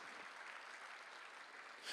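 Church congregation clapping during a Thanksgiving Sunday service, a steady dense wash of applause that is quite faint and distant throughout, with no voices over it.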